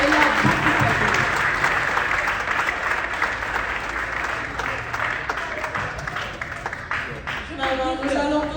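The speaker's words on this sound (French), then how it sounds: "Des applaudissements." An audience claps in sustained applause, a dense steady wash of hands close by that carries on for the whole stretch, with voices speaking over it near the end.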